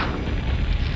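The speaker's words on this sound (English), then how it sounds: "And the cannon tower did hit me," In Warcraft 2, a cannon tower fires, producing a short, dense, booming blast that fills the whole moment with a heavy low-end thud.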